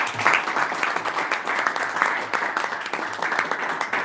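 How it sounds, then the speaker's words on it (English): An audience at a speakers bureau meeting applauds a speaker with dense, steady clapping that stays fairly loud and even across the whole stretch. "Let's give him a round of applause"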